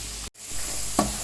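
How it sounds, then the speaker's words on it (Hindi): Flour roasts with butter in a pan, making a soft, steady sizzling hiss with a brief dropout near the start and a small scrape toward the end. "इसको मक्खन के साथ भूनेंगे"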